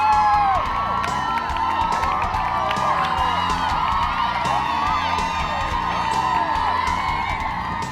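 Women along the Boston Marathon course at the Wellesley Scream Tunnel cheer runners: a loud, dense wall of high-pitched screaming and whooping from a large crowd, sustained throughout.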